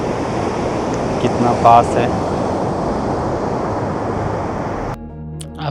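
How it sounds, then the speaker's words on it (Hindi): Atlantic Ocean surf rolls in at Achill Island on Ireland's Wild Atlantic Way, a loud, continuous wash of breaking waves with wind buffeting the microphone while someone speaks briefly over it before the sound cuts out. "ये देखिए समुद्र"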